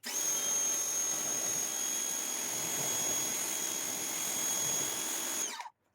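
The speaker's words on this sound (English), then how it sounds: "Let's give it a rinse." A strong water spray hisses steadily as it rinses a neglected car's tire and wheel, holding loud and even for about five seconds before cutting off abruptly.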